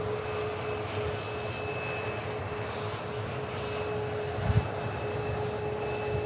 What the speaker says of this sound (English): the aircraft just going round back onto the Alpha taxiway